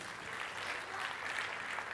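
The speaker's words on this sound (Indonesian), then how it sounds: "Mau tepuk tangan buat Yesus?" Church congregation applauding for Jesus during a Sunday worship service, a steady, even wash of clapping with no break, fairly soft and room-filled.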